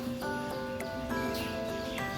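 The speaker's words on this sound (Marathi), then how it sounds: "पक्ष्यांचा किलबिलाट आहे" Repeated short bird chirps over a steady outdoor background, fairly close, with a few brief calls recurring about every quarter second in places.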